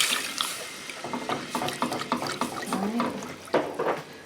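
About a cup and a half of milk poured into a flour roux in a pan on the stove splashes and gurgles in irregular liquid bursts, close and moderately loud.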